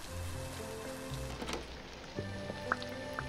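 Steady rain in the Littlewood video game, a soft continuous patter of drops on surfaces under gentle game music tones, with a few light drips and taps toward the end.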